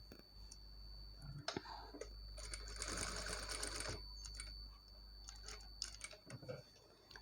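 A sewing machine stitches cloth during hand-cut model garment work, running in steady mechanical bursts with clicking, loudest in a sustained run mid-clip, close and clear with no talking.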